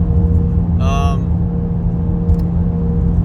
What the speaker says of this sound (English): Even though I got new tires on this car, the road noise is still disgusting.